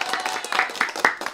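Applause from a few people, with brief, uneven hand claps for about a second, moderately close, with voices mixed in.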